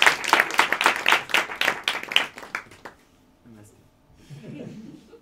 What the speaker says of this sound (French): on l'applaudit bien fort, on lui donne beaucoup d'amour